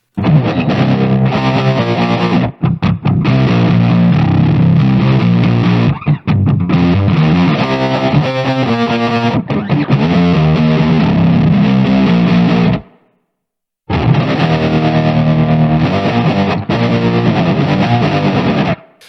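Loud, harsh fuzz bass with a second octave added through a POG pedal, playing a driving riff that cuts out briefly near the end before resuming.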